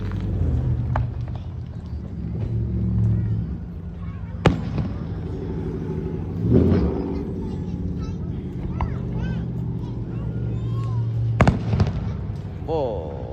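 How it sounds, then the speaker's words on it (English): Fireworks burst during an outdoor display, a few sharp separate bangs among a steady rumble, while someone talks throughout. "Lots of fireworks."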